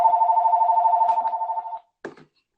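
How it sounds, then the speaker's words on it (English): A telephone rings with a steady warbling electronic tone that pulses rapidly, holds for almost two seconds and then stops, followed by a short clicking burst; the sound is clear and moderately close with no voices over it. "is that your phone?"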